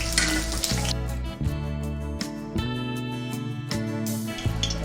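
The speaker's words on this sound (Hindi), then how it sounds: "अब ये आलू को भी गोल्डन ब्राउन हम इसमें फ्राई कर लेंगे" Potatoes frying in a pan of hot oil, a steady close sizzle that runs the whole time without a break, with no talking over it.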